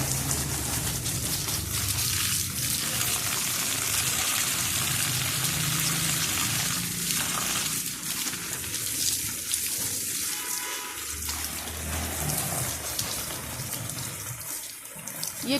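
Water pours steadily from a hose or can onto garden plants, a continuous close splashing and hissing that runs throughout with slight shifts in flow and no speech.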